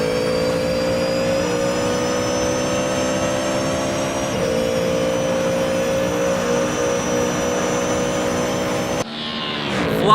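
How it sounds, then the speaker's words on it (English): A loud, steady high-pitched engine whine from a Ford Mustang GT3 in a racing video game holds for about nine seconds, then cuts abruptly to a brief rushing change in tone. "hear that engine whine"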